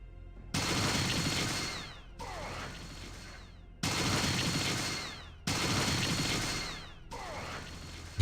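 Bursts of gunfire aimed at turrets in the Fallout 2 video game arrive as five loud, rapid volleys separated by brief silent gaps, with a mechanical clatter in each burst.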